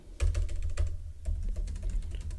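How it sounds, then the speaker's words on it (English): Keys clatter on a computer keyboard in quick, close bursts of typing while a first name is entered into Python code. "Print, let me type my first name"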